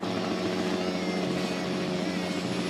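Steady, loud rotor and engine drone of a helicopter flying close by in Brazil, continuous throughout with no pauses.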